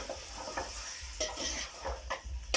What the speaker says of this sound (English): I'm just gonna stir this a bit